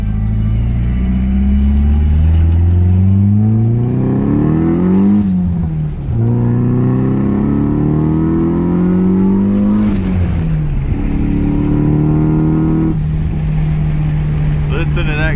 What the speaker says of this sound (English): Listen to that Garrett spool